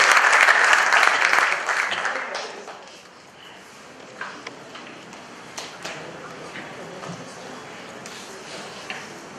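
Audience applause at a live stage event, a burst of loud clapping that fades after a couple of seconds into scattered claps, with a voice speaking over the tail.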